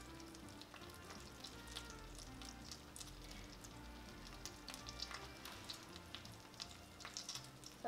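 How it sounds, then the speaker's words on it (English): Steady sizzling of crab cakes frying in a hot pan, a dense crackling hiss with small pops, continuous and close, no talking. "You hear that? That sizzle?"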